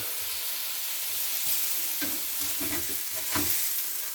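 Pork seasoned with pepper and cayenne browns in a pan with a loud, hissing sizzle, broken by a few stirring scrapes and bursts in the second half, with nobody speaking.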